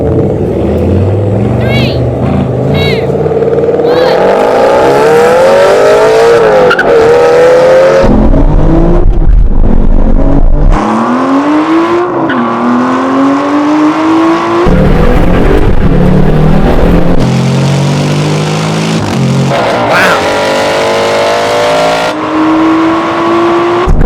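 Aston Martin cars accelerate hard from first gear in a half-mile roll-on drag race, loud engines climbing in pitch through repeated gear changes, with a brief quieter gap partway through and a voice speaking over the roar.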